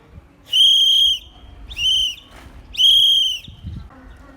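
A shrill whistle sounds long, short, long, the Morse letter K, with brief quiet gaps between the blasts.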